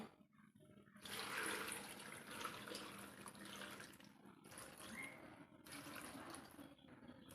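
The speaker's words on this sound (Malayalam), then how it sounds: "അസ്ത്രത്തിനായോണ്ട് അത്യാവശ്യം വെള്ളം ഒഴിച്ചു കൊടുക്കുകയാണ്" Water poured steadily into a pot while cooking astram, a Kerala mixed-vegetable curry, a continuous close rushing splash with brief pauses and no talk.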